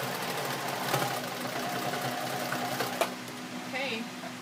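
A sewing machine fitted with a denim needle stitches a denim apron, giving a steady, close mechanical whir and hum with a few small knocks along the way.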